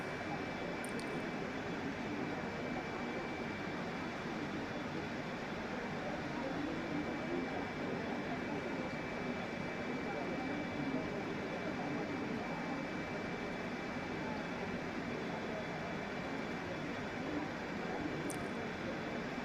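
A steady, even engine drone from an MD-11 airliner on a hand-flown approach in Microsoft Flight Simulator 2020, unbroken at a moderate level with a faint high whine, and no speech.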